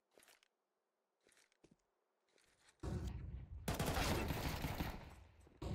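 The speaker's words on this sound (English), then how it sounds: "Great shot from Finn" Sustained automatic gunfire bursts from a Counter-Strike match between Eternal Fire and Twenty Seven, starting sparse then swelling into a loud, dense barrage in the second half.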